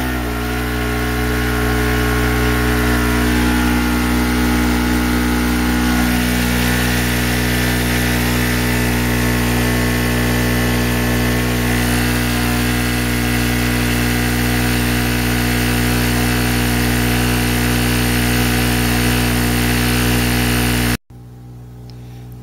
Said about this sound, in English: I'm gonna let the generator run for a minute.